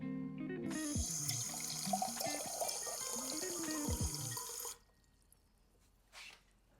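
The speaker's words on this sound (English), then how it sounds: "take some water out in a can or a bucket." Water from a flushed whole-house spin-down filter pours into a bucket, a rushing, splashing stream with a rising fill pitch that stops abruptly, followed by quiet and a brief faint splash.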